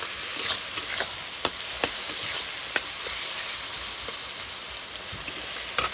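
Onions fry in oil with salt and turmeric, hissing steadily as a spoon stirs them, leaving scattered sharp clacks against the pan over an even sizzle. No voices.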